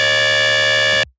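A sustained pitch-bass synth patch with flange and filter, drive at zero, holds one steady, buzzy, harmonically dense tone for about a second, then cuts off abruptly, loud and alone.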